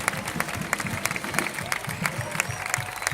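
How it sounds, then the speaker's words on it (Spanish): Crowd applause at the Les Santes festa major in Mataró, a continuous dense clapping from a large outdoor audience with a steady murmur of crowd noise underneath. "Aquest aplaudiment per vosaltres, ens enamoreu any rere any"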